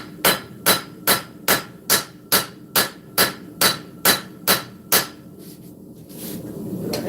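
A hammer smooths a forged cleaver blade, with about a dozen loud, evenly spaced ringing strikes close by, then a stop and a quieter shuffle of handling.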